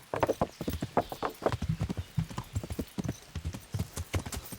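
Horse hooves in the video game Kingdom Come Deliverance: a rhythmic, close clip-clop of a horse trotting, loud and steady throughout.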